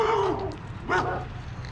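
A big dog in a residential neighborhood gives two short barks, one at the start and another about a second later, standing out clearly over a low steady background hum.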